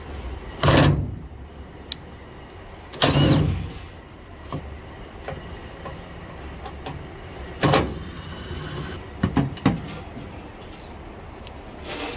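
Taillight T25 Torx screws being removed from a 2020 Ram 3500, heard as a few short, sharp clicks and clacks, loud and close, spaced out over a quiet background.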